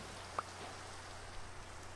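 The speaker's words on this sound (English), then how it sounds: "this rain is killing me. It needs to stop raining." Rain falls steadily in the Minecraft video game, a faint, soft hiss under a low background hum, with one brief drip-like tick near the start.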